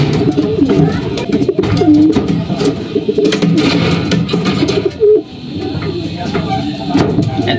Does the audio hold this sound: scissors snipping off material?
no